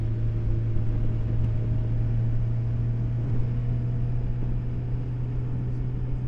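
A BMW K 1600 GTL motorcycle lugging along in sixth gear: a steady low engine hum with a strong, even drone and faint wind rush, moderately quiet and unbroken, with no voices.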